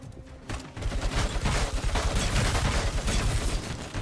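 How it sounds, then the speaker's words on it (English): Heavy machine gun fire in Robocop: Rogue City, a loud, dense, sustained rattle of rapid shots that starts abruptly after a short lull and continues without break, close and alone. "Heavy machine guns work, so let me grab the other one here."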